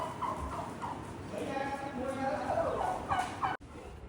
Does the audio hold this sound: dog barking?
no